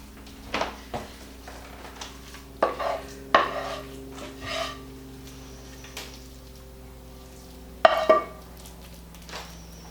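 Hamburger mixture scraped into a metal pan and stirred for a burrito casserole, with scattered clanks and scrapes of a utensil against the pan between quieter moments.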